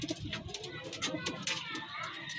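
Pigeons coo softly in a loft, low repeated calls mixed with a person talking in Filipino and children's voices in the background.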